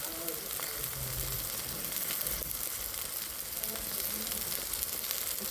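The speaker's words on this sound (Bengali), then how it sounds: "বেগুনটা আমি হলুদ মরিচ লবণ দিয়ে দিলাম কড়াইতে" Eggplant slices seasoned with turmeric, chili and salt fry in a wok, giving a steady, close, even sizzle that runs unbroken throughout with only a faint murmur underneath.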